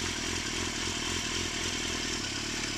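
A motorcycle pulls away with the clutch let out slowly and no throttle, its engine running steadily and close by with a low, even chug throughout and no voices.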